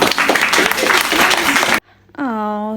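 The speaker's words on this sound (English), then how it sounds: "Can we give her a round of applause?" A crowd claps for a woman named Lakeisha, a loud, dense burst lasting under two seconds that cuts off abruptly. A brief near-silence follows, then a sustained voiced tone.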